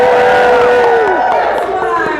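An audience at a cosplay contest lets out a loud sustained collective "woo" that sweeps downward in pitch and holds steady, with scattered whoops mixed in close by.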